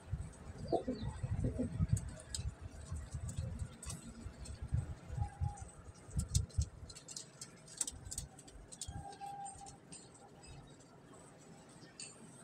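Low pigeon cooing rumbles at close range early on, then fades, leaving faint shuffling, light taps and rustling.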